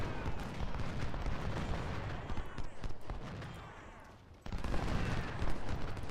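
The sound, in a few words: artillery fire in video game Ultimate General Civil War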